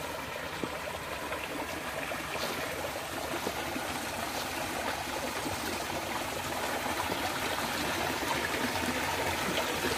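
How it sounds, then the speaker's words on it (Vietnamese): A river flows beside a simple hut in rural southern Vietnam, with steady broadband rushing and trickling water throughout, fairly close and unbroken, with no talk over it. "Còn mé bên đây thì con sông."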